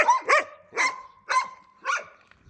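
Dogs from different buildings fighting over territory, a handful of sharp, fairly close barks and yelps coming in an irregular series of about five bursts, with faint whining tones between them.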